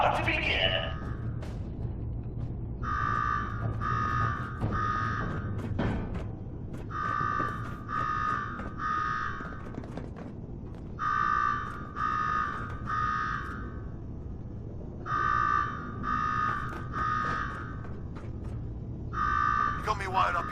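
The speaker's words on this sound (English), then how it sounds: "Now go shut off that damn alarm." An electronic alarm in the video game Fallout 4's Nuka-World DLC blares in repeated triple pulses, each group separated by short gaps, over a steady low hum.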